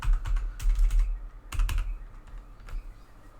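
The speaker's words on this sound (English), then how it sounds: "by typing the 22 and 11 in there and not hitting enter" Soft clicks of numbers being typed on a computer keyboard, in two short bursts of quick keystrokes separated by brief pauses, then a few isolated taps, close and quiet.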